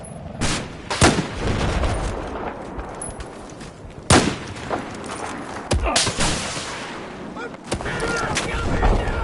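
Gunfire in a Battlefield 4 firefight, with several sharp, loud cracks spaced irregularly, distant rumbling shots and chatter between them, and voices speaking over the combat.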